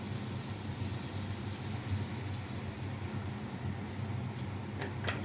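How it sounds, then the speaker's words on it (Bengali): Water being poured into a pan of papaya curry, a steady broadband wash of splashing and trickling that holds evenly throughout, with a few faint clinks near the end. "আর একটু জল দিয়ে দিই।"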